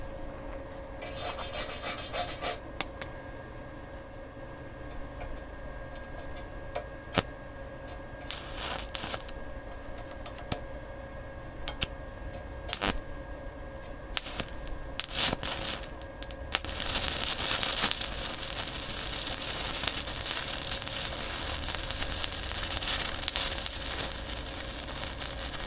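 A digital welding machine, just unboxed and under test, gives a steady crackling, rasping buzz that keeps going with short breaks and grows fuller and more continuous in the last third.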